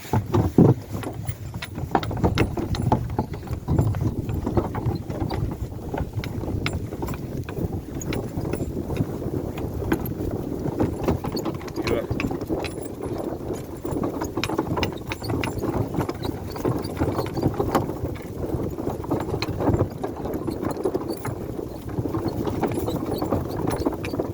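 Steady clip-clop of draft horses' hooves on a hard road continues for the whole stretch, with a mechanical rattling and clicking running underneath.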